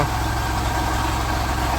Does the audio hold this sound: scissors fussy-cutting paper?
no